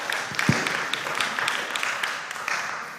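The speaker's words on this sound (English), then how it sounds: "A round of applause" A crowd at a school quiz competition claps in a steady patter of applause, moderately loud and sustained, with a few sharper individual claps standing out.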